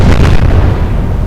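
A heavy naval gun fires in the Atlantic Fleet game, one loud, close booming blast with a rumbling roll that fills the whole moment, with no voices over it.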